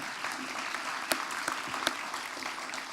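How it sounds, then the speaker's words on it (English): A morning civic forum audience gives a steady round of applause, many hands clapping at a moderate, somewhat distant level, with a few sharper individual claps standing out. "How about giving them a round of applause for being with us this morning?"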